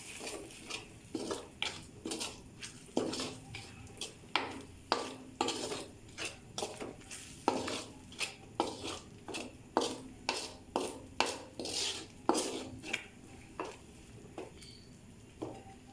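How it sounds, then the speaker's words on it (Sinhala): Utensil clinking and scraping against a pan while meatball pasta sauce is stirred and mixed, a steady run of sharp, close metallic taps repeating every half second or so, with a faint sizzle underneath. "දැන් අපි මේක හොඳින් කලවම් කරගන්නවා."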